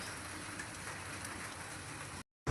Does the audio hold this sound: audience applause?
no